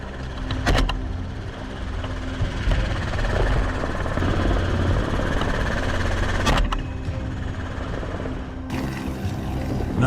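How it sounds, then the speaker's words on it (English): A helicopter hunting wild boar drones steadily overhead, a constant whirring engine rumble with broadband noise throughout, briefly punctuated by a couple of sharp clicks. "The pilot circled and angled the helicopter"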